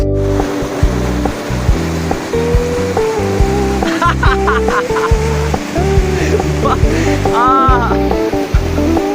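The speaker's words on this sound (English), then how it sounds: "Let's go and enjoy some waterfalls." A mini waterfall in Ukhrul district produces a continuous broad rush of falling water. Steady tonal sounds run underneath it, and a voice lets out a brief exclamation.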